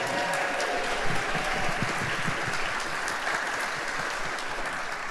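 Audience at a tribute gala applauding honorees: sustained, even clapping from a room full of guests, moderately loud and continuous without speech.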